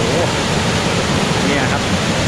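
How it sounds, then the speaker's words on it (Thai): The second tier of Krok I Dok waterfall in Khao Yai National Park pours with a strong flow. It makes a loud, constant roar of rushing water heard from close by, steady from start to end. "เรามาถึงขั้นที่2แล้วน้ำตกแรงมาก"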